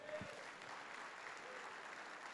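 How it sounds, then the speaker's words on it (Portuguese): A church congregation applauding steadily, a dense wash of many hands clapping throughout, with faint voices mixed in. "aplauda ao Senhor"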